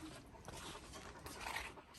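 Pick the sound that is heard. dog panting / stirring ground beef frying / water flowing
dog panting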